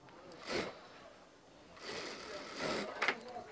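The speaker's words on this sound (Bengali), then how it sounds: "একটা সেলাই দিলাম এরপর আরেকটা মুড়ানি দিয়ে আরেকটা সেলাই দিব" A sewing machine stitching a thin seam on a dhoti salwar, running in two bursts separated by a pause, with someone talking over it.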